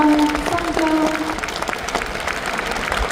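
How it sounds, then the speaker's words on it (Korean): An audience applauds at an award ceremony in the COEX auditorium in Seoul, with sustained crowd clapping that gradually thins out and a tonal chime or music heard early on. "큰 박수 부탁드리겠습니다."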